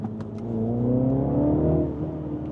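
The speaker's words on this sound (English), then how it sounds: "I hear turbo whistles as well as occasionally some pop-pops from the exhaust" A 2024 Mini John Cooper Works 1to6 Edition with a manual gearbox, heard close up as its engine revs rise and hold with a steady whirring drone, then ease off near the end.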